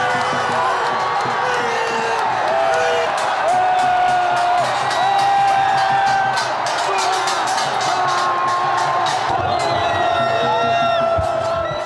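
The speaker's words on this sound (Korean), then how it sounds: "그 결정적인 순간 관중석에서 터진 것은 함성이었고 눈물이었다" A stadium crowd of football supporters roars and shouts during a World Cup match, with many voices whooping and chanting in rising, wavering swells that stay loud and continuous throughout.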